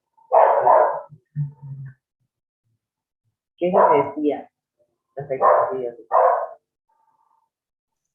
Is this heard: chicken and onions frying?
no